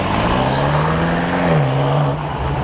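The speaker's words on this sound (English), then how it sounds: "There goes the homie in the M8" A BMW M8 pulls away with a close, loud engine note that rises and then falls as it leaves. The sound stays steady and continuous, with no voices.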